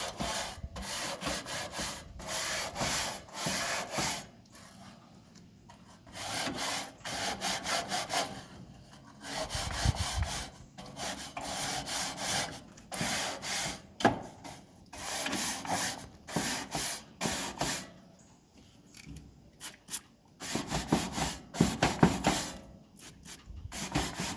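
Cast iron Broil King grill grates are scrubbed hard with a rotating motion to remove stuck-on gunk. The rasping strokes are close, continuous and rhythmic, with no talking.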